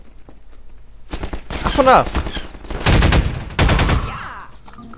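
Gunfire aimed at the player in Half-Life 2 Episode 2: rapid automatic bursts of loud, sharp shots in several clusters, with a short spoken exclamation during the firing.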